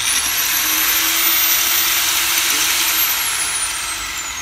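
A Hercules 4-1/2 inch 7 amp angle grinder, set up for cutting fence posts, metal poles and steel rebar, runs with a loud, steady high-pitched whine. The motor sound stays constant from start to finish, with no talking over it.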